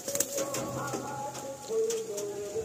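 Male pigeons coo softly at close range, low throaty calls that repeat and overlap, mixed with light fluttering and handling noises.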